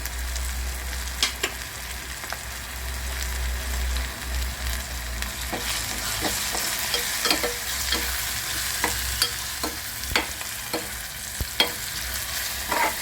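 Garlic fries in a pan for a methi rasa curry, a steady close sizzle under repeated clicks and scrapes of a stirring spoon, with no talking.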